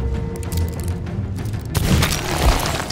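Heavy booming blasts with crackling noise, a loud burst erupting partway through and rumbling on, cannon fire in the game Sea of Thieves.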